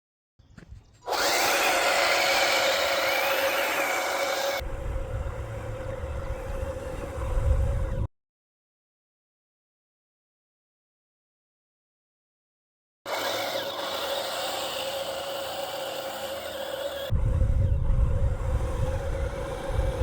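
An RC model ISU tank runs a proving-ground race course, its motor giving a loud, steady whirring drone in two long bursts separated by several seconds of silence.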